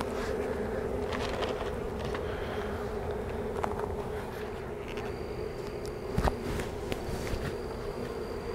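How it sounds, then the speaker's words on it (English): Captured honeybee swarm shut in a screened box, a dense continuous buzzing roar filling the whole stretch, close and steady, with a few faint knocks and clicks on top. "I got them all in there. You can hear them roaring."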